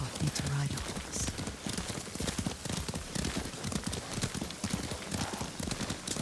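Horse hooves clip-clopping at a steady ride in the game Ghost of Tsushima, rhythmic close hoofbeats running throughout beneath voices talking.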